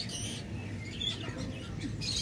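Lovebirds and cockatiels at a bird farm chirping, several faint high tweets scattered over a low background hum.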